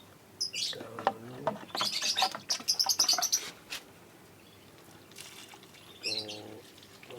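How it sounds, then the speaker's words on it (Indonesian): A pet lovebird chirping during a bath with water and detergent, several bursts of sharp high tweets and chatter scattered across the moment, fairly faint, alongside light splashing and handling noises. "untuk memandikan burung lovebird"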